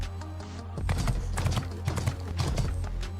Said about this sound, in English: Even more horse noises.